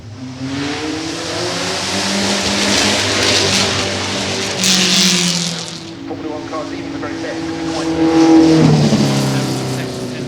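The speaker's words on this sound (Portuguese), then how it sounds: "esse carro vai acelerar na subida de montanha" Brabham BT46B Formula 1 car at Goodwood accelerating up the hill, its engine note rising in loud revving sweeps that swell toward the end, with crowd murmur and voices underneath.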